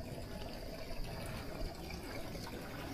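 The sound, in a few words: water running from a tap at a mountain campsite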